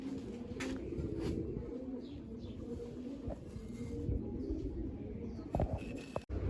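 Pigeons and doves cooing in a loft with adults and young birds out in the sun, a steady low murmur of many overlapping coos filling the whole stretch, with a few sharper flutters and knocks near the end.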